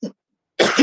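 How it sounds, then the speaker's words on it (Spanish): A single sharp cough rings out close to the mic during a pageant interview, followed after a brief pause by a second, longer cough or throat clearing. "una tos."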